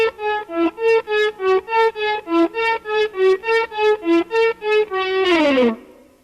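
Slow electric guitar lick of single notes, each one faded in with a volume swell and played dry with no echo; about fifteen evenly spaced swelling tones, loud and close, ending in a sliding bend that dies away.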